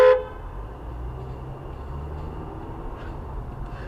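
A short car horn honk right at the start, followed by a steady low engine rumble and hum.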